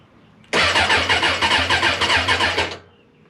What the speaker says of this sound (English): We'll just tap the starter to see what happens.